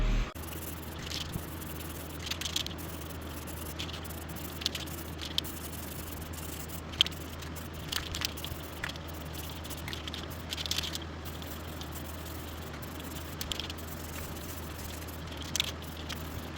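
Spray paint going on as a second coat over the gas tank of a 2002 Yamaha V-Star XVS650 motorcycle, a steady close hiss with short sputtering bursts and a constant background hum, no talking.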